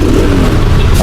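A superbike engine revs loudly and close for a brief, continuous burst of rising engine roar out on the road, with no talk.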